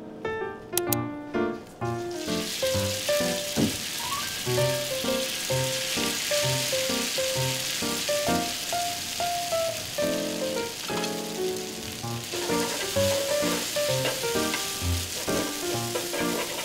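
Kawara soba noodles sizzle and fry on an oiled square hot plate, a steady crackling hiss under clinking stirring, close and continuous with no talking.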